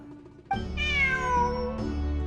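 Cat meowing in an exploration video game, a single clear, drawn-out meow rising then falling, close and loud against a steady low ambient background.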